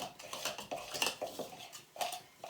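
A spoon stirs mushroom sauce heating in a pot for poultry meatballs, giving quiet, steady scraping and clinking against the metal in an irregular rhythm, close but soft.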